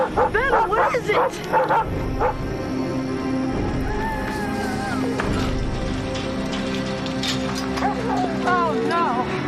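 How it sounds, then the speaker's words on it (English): A dog barks in loud, sharp bursts, then whimpers and whines in high, wavering tones, with more yips and barks near the end over a busy background, close by and mixed with voices. "go call the sheriff to get rid of that dog"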